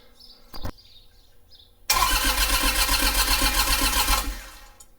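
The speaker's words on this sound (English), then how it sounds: "let's go ahead and you just take the starter and see how that likes it." A fire-damaged Kubota tractor's diesel engine cranks and catches at once, then runs loudly and steadily for a couple of seconds before dropping off; a brief clunk comes earlier.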